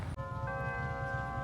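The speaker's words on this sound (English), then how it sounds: "The bells are ringing." Church bells ring at Immaculate Conception Church, heard from inside as a sustained ringing hum with layered tones over a low rumble, fairly faint.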